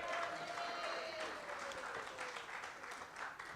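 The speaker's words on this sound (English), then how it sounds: "let's give them another round of applause" Audience applause at a live clubhouse event with Packers players: a steady wash of clapping from a crowd, continuous and moderately loud throughout, with a faint tonal sweep underneath.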